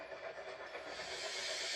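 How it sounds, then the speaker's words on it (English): A passenger steam train rolls past continuously at fairly close range, a steady broadband rush and hiss with faint rail clatter, loud and unbroken, no voices. "Passenger train coming through."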